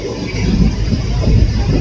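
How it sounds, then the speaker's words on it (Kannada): Steady low rumble of a fully packed passenger train in motion with rattling carriage noise, continuous and fairly loud throughout. "ಫುಲ್ ಪ್ಯಾಸೆಂಜರ್ ಟ್ರೈನ್ ಇದು ಫುಲ್ ಟ್ರೈನ್"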